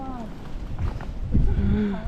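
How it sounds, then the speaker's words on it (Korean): Strong wind roars and buffets steadily at close range on snowy Palgongsan mountain near Biro Peak, with voices talking faintly underneath. "야 바람 소리 봐."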